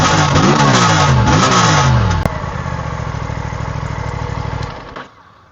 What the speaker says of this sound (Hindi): अब देखना जैसे ही मैं रेव करूंगा तो इसका एग्जॉस्ट नोट कैसा आवाज आ रहा है